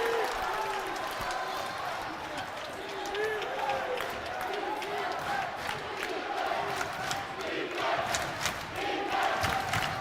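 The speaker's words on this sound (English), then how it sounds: "And just listen to the crowd here." A crowd roars and cheers at a men's college basketball game, Yeshiva Macs against Farmingdale State Rams, with a commentator talking over the steady noise.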